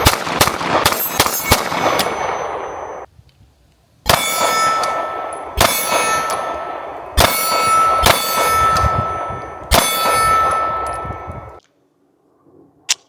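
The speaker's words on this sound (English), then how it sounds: "Let's try shooting the Archon at 50 yards. Got a steel plate down there." Pistol rounds from an Archon Type B Gen 2 ringing off a steel plate at 50 yards: a quick string of sharp metallic clangs, then after a pause a series of single spaced shots with bright ringing hits.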